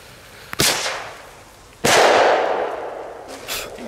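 Firecrackers explode outdoors in two sharp, loud bangs, each trailing off into a crackling, hissing decay, followed by a fainter pop near the end.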